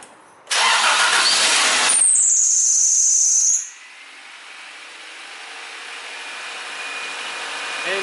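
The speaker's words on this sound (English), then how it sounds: "Engine is running" A car engine cranks with a loud roaring burst and a high whine, then settles into a quiet, steady idle hum.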